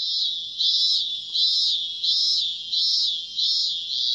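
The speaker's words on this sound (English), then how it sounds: "Cicadas." Cicadas drone in a video game scene, a steady high-pitched chorus that swells in regular pulses, alone and without talk.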